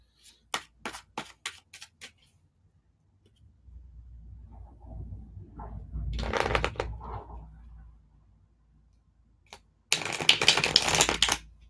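A deck of tarot cards riffled several times: sharp clicking bursts at the start, a longer rustling shuffle in the middle, and a final dense riffle, close and without talk.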